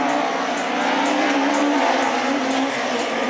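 Renault Twingo rally car at a hairpin in a Châteauroux competition, a loud close engine roar with a steady rasping drone and slight rev changes, continuous throughout without talk.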